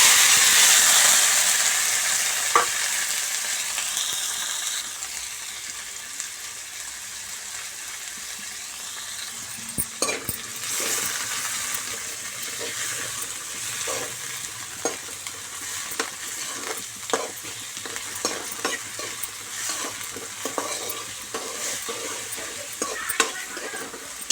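Cumin, onion, green chili and mint frying in oil in a pan, a bright hiss at first that settles into a steady sizzle with frequent clicking stirs of a spoon in the pan.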